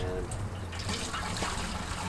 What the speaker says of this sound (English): So I have the gravity feed rain barrel filling a bucket while I water.